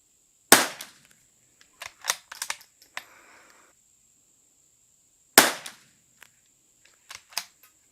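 Two sharp, loud rifle shots from a Zermatt Arms RimX rimfire rifle at an outdoor range, several seconds apart, each followed by faint clicks and clatter of the bolt cycling.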